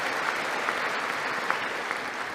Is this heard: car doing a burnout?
no